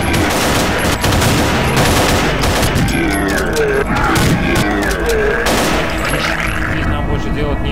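Shotgun fire in the shooter game Half-Life: Paranoia, with loud, rapid blasts that crash over one another in a dense, nonstop barrage.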